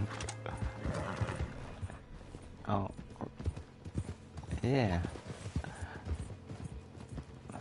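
A horse whinnies and its hooves clip-clop in the Red Dead Online video game, with a rising-falling neigh standing out midway over uneven hoof beats, while a person talks briefly.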